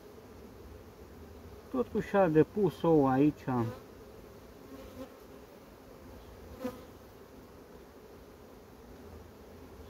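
Honey bees drone softly and steadily across six frames of an apiary hive holding a swarm queen, a low continuous hum under a few seconds of close talk.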